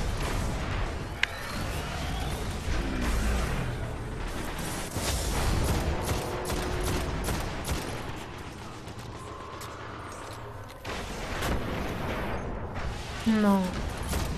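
Rapid mechanical gunfire bursts and clanking weapon sounds in the shooter game Destiny, during a raid run, dense and loud throughout with bright synthetic effects near the end.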